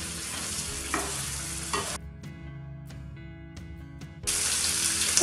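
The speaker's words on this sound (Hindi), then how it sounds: "हल्के हल्के हाथों से हम इनको पलटते रहेंगे ताकि हमारा अच्छे से रोस्ट हो जाए।" Paneer and masala being stirred and roasted in a pan, a steady sizzle with scraping stirs that drops away briefly midway, then returns loudly.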